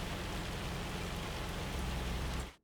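Steady, dense rainfall hisses evenly across a Farming Simulator 25 farm, loud and unbroken before cutting off abruptly at the end.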